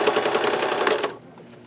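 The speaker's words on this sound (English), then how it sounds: "I'm going to stitch across them" A sewing machine stitches rapidly across canvas pockets in a fast, even burst of needle strokes lasting about a second, close and loud, then stops abruptly into quiet.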